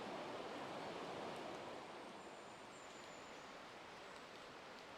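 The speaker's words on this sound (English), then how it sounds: "The river's still flowing away on our left-hand side" A river in Hackfall Wood rushes steadily past nearby, a broad, even flow of water noise that eases slightly after the first couple of seconds.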